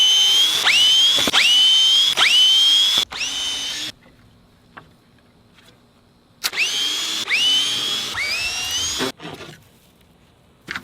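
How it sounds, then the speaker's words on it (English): A green power drill whines up and down in pitch as it backs screws out of a broken board on a backyard ramp, in several loud close bursts separated by brief pauses. "now I've got to back out the screws from this broken board"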